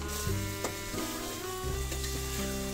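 Prawn pickle sizzles steadily as it fries in a pan while being stirred, with a few scraping knocks of the spoon against the pan over a continuous hiss.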